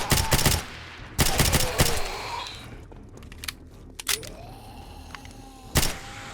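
Cheap ammo fired in the modded survival game 7 Days to Die: several loud, sharp shots in quick clusters, some followed by a ringing tail, separated by quieter gaps, close and with no talking over them.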